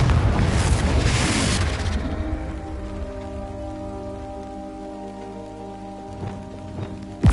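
A Confringo spell from the Hogwarts Legacy video game erupts in a loud, crackling, hissing blast that fades after about two seconds into soft sustained musical tones.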